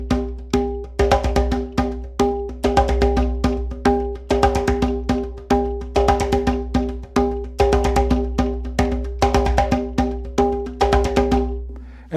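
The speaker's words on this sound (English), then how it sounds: "then you've got the quinto part with the slaps, open tones going in the 1 and the 2 and the 3," Quinto hand drum part mixing sharp slaps and ringing open tones in a repeating syncopated pattern, sounding close and steady over a low sustained drone, with no talking.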